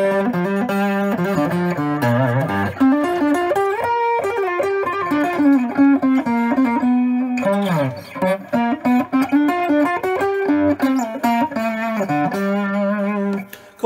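A three-string cigar box guitar played through distortion on a Fender Hot Rod amplifier, loud and close, with a driving riff of sustained fuzzy notes and chord stabs that stops abruptly.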